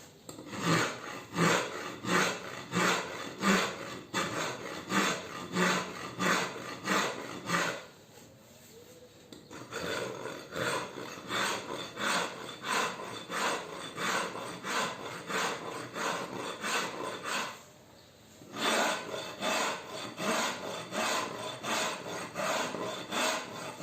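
A rasp scrapes steadily back and forth across the wooden body of a Telecaster-style electric guitar in a fast, even rhythm, close and loud, pausing twice before resuming.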